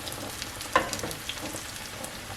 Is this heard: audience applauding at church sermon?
no